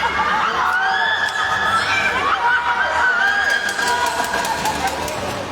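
A loud crowd of spectators cheers, shouts and whistles continuously at a sepak takraw doubles final at a national sports games, the din steady and dense from start to finish with some speech mixed in.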